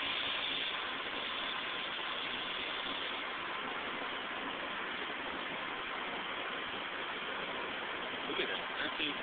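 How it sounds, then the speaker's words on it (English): A magnet motor spun to high speed by an air motor gives a steady, even whir that holds constant and fairly loud throughout with no pauses. "spinning up the magnet motor with an air motor."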